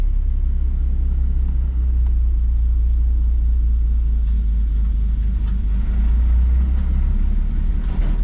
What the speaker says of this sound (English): I'll show you guys how easy it is to take off with this clutch. I'm not going to use any throttle.